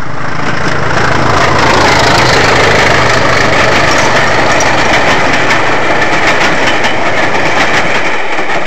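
A heritage railway locomotive engine idles nearby with a steady, loud, low rumble that holds unchanged throughout.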